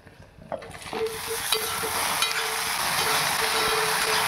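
Sliced okra and potatoes go into a hot oiled pan, setting off a close, steady sizzle with a few clinks from the utensil against the pan.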